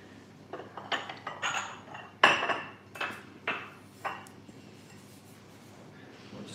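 A small bowl and other dishes knocked and set down on a kitchen counter, a series of sharp ceramic clinks and clatters in irregular bursts, loudest near the middle, then fading to quieter taps.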